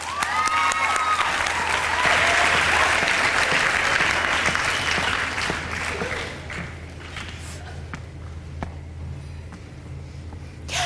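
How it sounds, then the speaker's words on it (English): Loud audience applause and clapping at a college speech night, sustained for several seconds and then slowly tapering off, with scattered claps fading toward the end. "please give a warm round of applause for Danielle and Heather"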